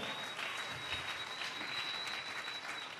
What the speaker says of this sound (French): Acclamons très fort pour le roi de Rome.